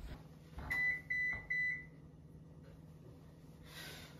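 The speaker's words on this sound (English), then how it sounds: "the oven is done preheating already before I even got to plate the pizza" An oven signals the end of preheating with three short, bright electronic beeps in quick succession, close and clear over a quiet kitchen hum, followed by a brief rustle.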